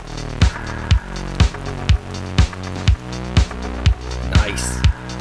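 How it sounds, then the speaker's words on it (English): Distorted saw wave synth bass on a Synthstrom Deluge groovebox, gritty and buzzing, played under a steady four-on-the-floor kick that pulses roughly twice a second, loud with no talk. "But it's just a saw wave, and I just nastied it up."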